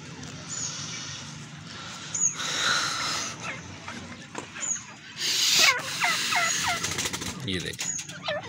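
Partridges being fed millet seedlings give a string of short squawking calls and gobble-like chatter, close by and fairly loud, with rustling between calls and bursts of louder noise.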